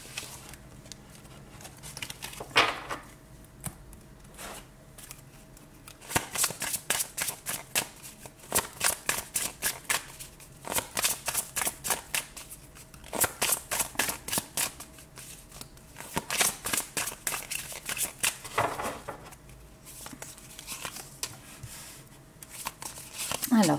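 Tarot cards shuffled by hand in rapid riffling bursts, several long stretches of crisp rhythmic patter separated by short pauses, close and fairly loud, with a person talking softly in places.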